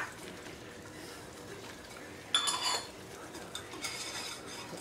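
Vanilla and baking soda stirred into hot caramel off the heat: a quiet, steady bubbling hiss with a burst of fizzing and soft spoon scrapes against the pot midway, no talk.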